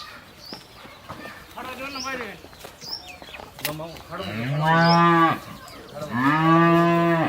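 A cow moos several times, close and loud, with long drawn-out calls growing stronger toward the end, while a person talks nearby and birds chirp faintly in the background.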